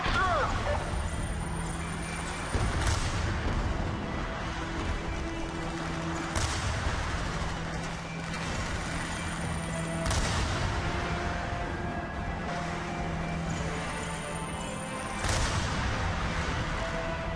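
Gunfire in the Black Ops 2 campaign: repeated heavy shots and bursts over a dense, constant roar of combat noise, with loud impacts every few seconds under a steady low hum.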